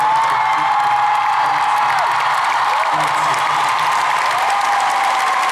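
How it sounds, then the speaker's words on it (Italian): A concert audience at Palasele in Eboli applauds and cheers, a dense wall of crowd noise with whoops. A whistling tone and a low hum carry through it without a break. "spero di sentire le vostre mani applaudire così per sempre."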